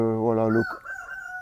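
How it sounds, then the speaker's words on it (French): A farmyard rooster lets out a single short, close crow that breaks off abruptly, followed by a softer trailing call. "C'est un peu le coq de la basse-cour."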